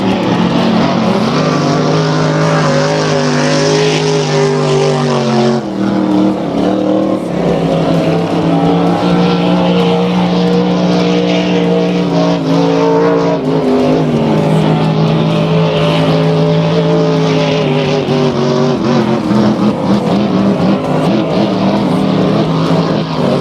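Racing motorboats roar continuously at a lakeside resort's annual boat race, their loud engines whining and shifting in pitch as they speed past, with one overlapping another throughout and no voices.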